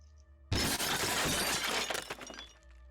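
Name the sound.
old figurine shattering on the floor, sound effect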